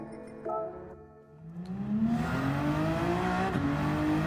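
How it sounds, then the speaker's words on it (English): Honda NSX engine in the video game Gran Turismo 7 revving steadily upward, a rising drone that builds from a brief dip into a loud, sustained climb through the gears, heard alone without talk. "NSX engine is really nice."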